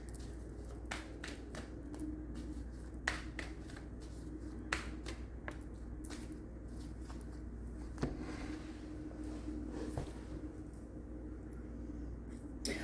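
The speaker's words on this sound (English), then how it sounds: "let me finish pulling the cards" Tarot cards are shuffled and pulled, giving sporadic soft slaps, flicks and snaps at irregular intervals, close and fairly quiet over a low room hum.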